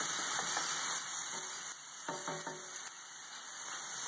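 Ground turkey and hamburger brown softly in a pan for chili, a steady frying hiss with occasional scraping and stirring clicks, close and quiet.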